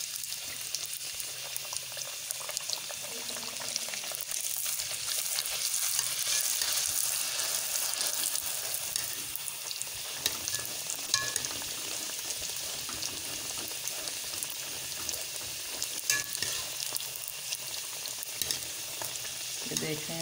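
Golgappa puris frying in hot oil, a steady broad sizzle and bubbling running throughout at moderate loudness with small crackles, no voices.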